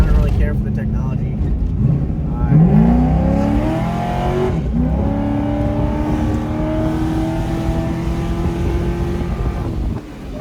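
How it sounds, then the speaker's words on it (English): A C5 Corvette accelerating hard from a roll, loud engine note climbing through rising harmonics with gear changes until the rev limiter bounces near the end; people talk over it. "that rev limiter kicked in"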